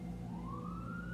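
Distant siren heard in the background, a single rising wail sweeping upward over a low steady hum, faint and brief.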